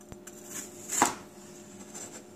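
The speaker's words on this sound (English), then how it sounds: "So we start by cutting the apple in half." A knife cutting an apple in half, a single crisp slicing crunch near the middle among faint handling sounds, close and quiet.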